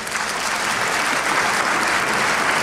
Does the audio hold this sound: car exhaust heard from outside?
no